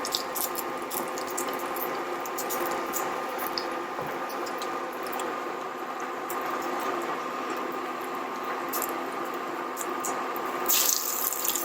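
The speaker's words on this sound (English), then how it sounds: "You should hear sizzling when you put the chicken into the oil" Flour-and-egg coated chicken frying in hot oil gives a steady, fairly loud hiss with fine crackling throughout, no voices.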